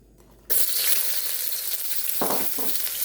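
Chopped onion dropped into a hot wok for bacon fried rice, bursting into a loud, steady sizzle that continues throughout, with a couple of brief stirring scrapes near the end.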